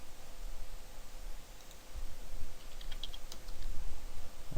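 Computer keyboard keys clatter in quick, close presses while working in After Effects, a short burst of typing over a quiet room hum.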